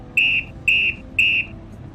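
A traffic police whistle gives three short, shrill, evenly spaced blasts, close and loud, alone against faint background noise.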